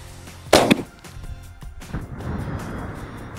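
A shotgun fires a single Black Cloud waterfowl shell at a 40-yard target, a loud, close, sharp blast that fades into a brief echo and then rustling background noise, with no talk.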